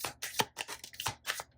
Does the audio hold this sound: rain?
no